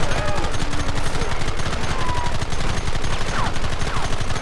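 Rapid, dense gunfire from a shootout in the Red Dead Redemption video game, a continuous clatter of overlapping shots filling the whole stretch loudly, with faint voices underneath.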